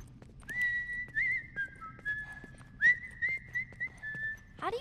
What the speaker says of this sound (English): How do you do that? What, whistle?